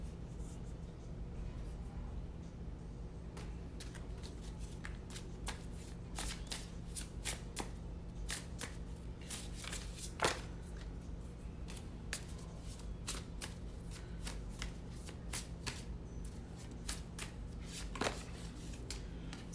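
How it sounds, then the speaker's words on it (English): A thin deck of cards being shuffled repeatedly, a steady papery riffle with sharp crisp snaps scattered throughout, close and fairly quiet, no voices. "I like thin decks because they just shift and shuffle so easily"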